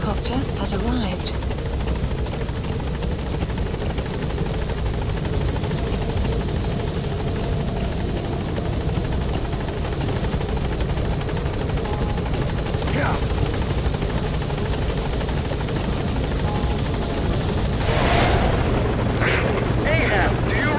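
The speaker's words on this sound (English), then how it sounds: "Support helicopter has arrived." A support helicopter hovers at a landing zone in Metal Gear Solid V: The Phantom Pain, its loud rotor drone steady and close throughout, with voices heard over it now and then.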